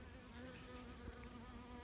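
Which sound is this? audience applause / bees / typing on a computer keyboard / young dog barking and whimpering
bees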